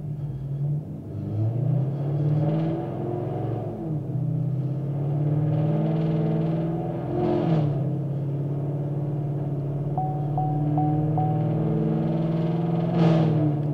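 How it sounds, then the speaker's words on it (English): A cammed sixth-generation Chevrolet Camaro SS V8 runs on a dyno, a loud, close, steady engine drone that swells and eases across several rises, lumpy and continuous with no voices. "Let's go ahead on and drive this car and see what the MAF curve looks like."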